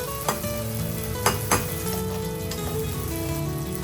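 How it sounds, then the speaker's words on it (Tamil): Curry leaves and a small chopped tomato sauté in a hot pan with a steady, bright sizzle, broken by a few clinks of a stirring spoon against the pan. "கூடவே கருவேப்பிலை மற்றும் நறுக்கிய ஒரு சிறிய தக்காளியை போட்டு நல்லா வதக்கிக்கலாம்"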